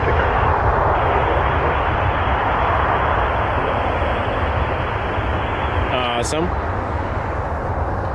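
An Air Canada Airbus A321 takes off at Toronto Pearson, its engines a loud, steady, broad jet roar that fills the whole stretch, with a brief spoken word breaking through near the end.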